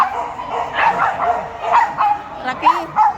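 Rocky, a dog facing a bigger dog, lets out a run of short, high yips and barks with whimpering edges, loud and close, while people talk nearby.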